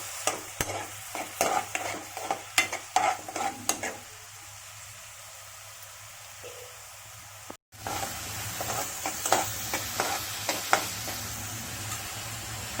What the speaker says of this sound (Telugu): ఆనియన్ పేస్ట్ వేయాలి, పచ్చిమిరపకాయలు వేసి బాగా వేయించుకోవాలి.